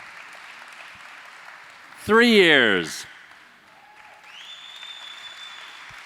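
Soft, even clapping from an audience at a Recovery Rocks event celebrating recovery milestones runs in the background while a voice on a microphone briefly speaks over it, followed by a sustained electronic tone.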